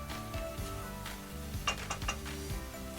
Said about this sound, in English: As you can see, the pot is being deglazed.